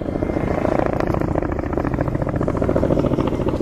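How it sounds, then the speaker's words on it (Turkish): A firefighting helicopter over a forest fire in Narlı thrums steadily overhead, its rapid rotor beat loud and continuous throughout. "Evet, helikopter söndürme çalışmaları devam ediyor."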